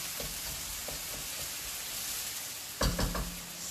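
Onion frying in a pan over a low flame, a quiet steady sizzle with light scraping stirs and a louder clatter of stirring near the end.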